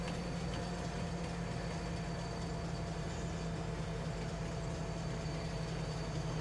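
A heavy train in Farming Simulator 19 brakes while going uphill. It makes a steady, droning mechanical rumble with a faint metallic hum that barely changes as it slowly loses speed.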